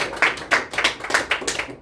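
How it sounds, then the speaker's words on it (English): Sparse clapping from a small group around a game table, a handful of loose claps in uneven bursts over under two seconds, fairly close and with no talking. "So please give a round of applause."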